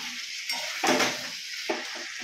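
Chicken curry with green chilies frying in a pan while it is stirred: a steady close sizzle with a few louder scraping strokes of the spoon, and no voices.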